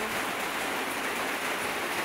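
Rain falling as a dense, steady hiss, close and even throughout with no voices.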